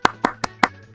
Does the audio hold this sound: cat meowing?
no